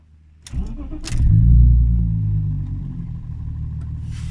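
A BMW E46 engine with the rear exhaust silencer removed cranks and starts, then settles into a deep, throaty idle with a loud low rumble close by.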